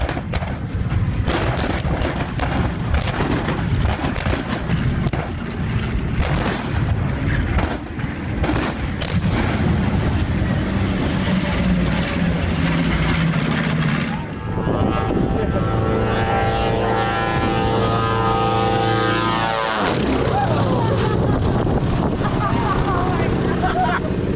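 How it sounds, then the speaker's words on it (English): At an airshow, a wall of fire of timed fuel explosions erupts as an aircraft flies past: a loud barrage of booming blasts and crackling bursts, then a roaring, rising jet engine sweeping by, all continuous and close. "This spectacular wall of fire effect is actually a controlled airshow demonstration. using timed fuel explosions as an aircraft flies past."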